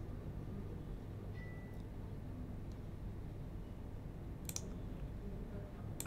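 Two sharp computer mouse clicks on a play button while running a Selenium test, near the middle and end of the stretch, crisp and close over a steady low room hum with no talking.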